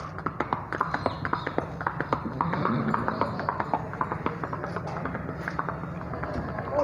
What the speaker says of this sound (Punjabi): ਲਓ ਜੀ ਮਾਸ਼ਾਅੱਲਾ ਘੋੜੀ ਜਾ ਰਹੀ ਜੇ